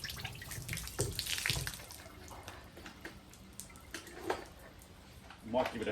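Water trickles and drips from the spark plug holes of a submerged outboard motor, soft splashes and splatters coming in uneven bursts close by, with a person talking over it.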